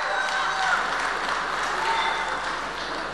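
A studio audience at a Kazakh comedy show in Shymkent bursts into steady, dense applause that holds at an even level for a few seconds, with no speech over it.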